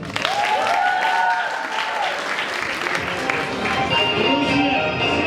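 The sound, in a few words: audience applause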